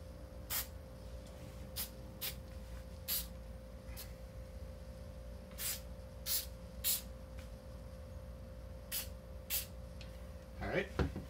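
Spray adhesive hisses onto Mazda Miata door cards in short, sharp bursts of varying length repeated over several seconds, with a low background hum and a brief voice near the end.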